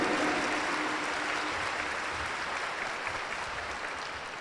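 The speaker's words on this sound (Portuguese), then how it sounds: "Pode dar uma salva de palmas" A church congregation at Sunday Mass applauding together, a steady, moderately distant wash of clapping that slowly fades over a few seconds.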